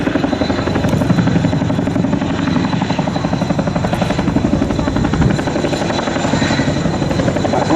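Boeing Chinook twin-rotor military helicopter of RAF service flying nearby, a loud continuous rotor thrum with rapid blade chopping and turbine whine, steady throughout with no talk.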